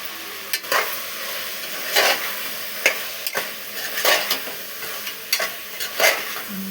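Eggplant curry being stirred in a hot pan, with repeated scraping strokes over a continuous sizzle, close and clear with no talk.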